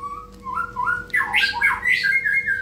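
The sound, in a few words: white-rumped shama (murai batu) squawking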